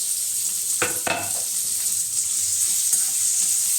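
Chopped onion and green chili frying in a pan: a steady close sizzle and hiss throughout, with a couple of brief clinks of a spoon stirring against the pan.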